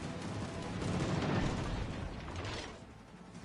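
Naval guns fire from a warship in a competitive naval battle game, probably the battleship Nebraska. The burst is dense and rumbling, with a heavy roar that swells and then slowly fades, and no voices are heard.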